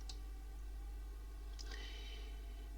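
Two quick computer mouse clicks, a sharp one at the start and another after a pause, pressing OK in an archive dialog, faint and close over a quiet steady electrical hum.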